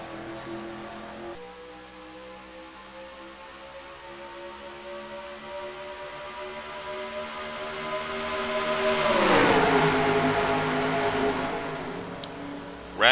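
Stock race cars roaring at the green flag start of the Featherlite Trailers 250, a steady dense engine drone that swells as the field accelerates past, loud and continuous with no talk.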